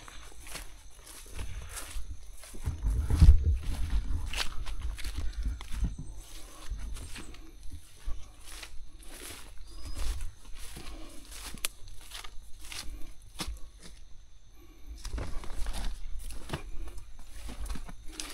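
Rain pattering around an abandoned military camp, irregular soft taps and drips close by with scattered louder hits and low rumble, steady throughout without talk.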